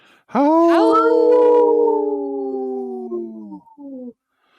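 A single wolf howl, loud and close, rising sharply then holding a long sustained tone that slowly falls and breaks off after about four seconds, heard alone without talk.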